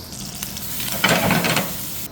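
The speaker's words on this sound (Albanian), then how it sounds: "Tani me të njëjtin tigan do skuqim hudrën me specin djegës." Garlic and chili pepper sizzle steadily in a pan in a restaurant kitchen, a close, continuous hiss that swells in the middle as the food is stirred.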